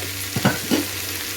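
Chopped tomato with a little salt being stirred and sautéed in a pan for a mutton dish, two or three quick scraping stirs over a steady low sizzle, no talking.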